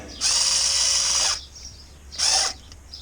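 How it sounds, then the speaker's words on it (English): A small electric screwdriver drives an oil pan bolt on a 2.4L Chevy HHR, whirring loudly and close in one long run of about a second, then a shorter burst after a pause. "A little electric screwdriver takes a lot of work out of it for you."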